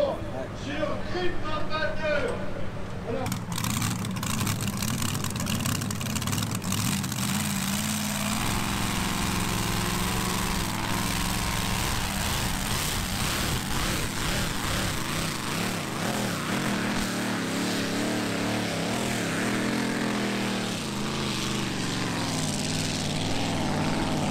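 A tractor engine roars steadily and loudly during a tractor pulling competition, its pitch shifting as the machine strains under load, with people talking throughout.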